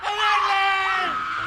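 A woman lets out a single sustained, high-pitched scream, loud and close, in a chaotic 18th-century French hospital scene.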